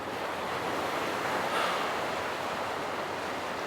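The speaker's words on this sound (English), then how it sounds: "I could listen to the ocean for forever." Ocean surf washes steadily onto the shore as an unbroken, full roar of breaking water that swells slightly midway, with faint wind and no talking.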